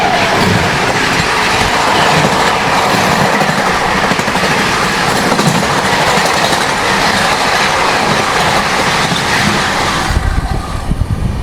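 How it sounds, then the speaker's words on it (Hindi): The Humsafar Express from Ferozepur to Rameswaram rolls past at a station, a loud, continuous roar of wheels and clattering coaches close by that holds steady before dropping away at the end. "ये थी फिरोजपुर से रामेश्वरम जाने वाली हमसफर एक्सप्रेस"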